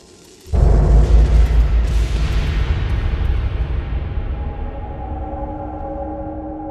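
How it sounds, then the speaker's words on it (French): A sudden, powerful explosion booms in after a quiet moment, followed by a long, deep rumble that slowly fades. "une explosion gigantesque se déclenche"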